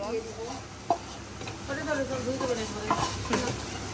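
Chicken pasta with egg and capsicum being stirred in a pan, with a steady sizzle and scraping utensil strokes, several sharper clacks, and people talking over it throughout.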